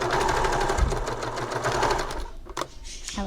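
A sewing machine stitches a folded fabric strap for an Artemis clutch, running steadily at close range with a brief pause and a short burst of handling noise near the end.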